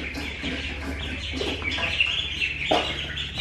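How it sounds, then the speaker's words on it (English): Several birds call with repeated clucking, quacking notes in a farmyard, fairly close and steady against a low background rumble, with no talking. "All right, I hear the ducks."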